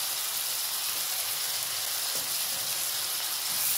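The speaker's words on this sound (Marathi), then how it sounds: "आणखी परतून घेऊया।" Tomatoes, carrots and peas sautéing in a pan with salt and turmeric, a loud and steady close sizzle and hiss that fills the whole moment, with no voice over it.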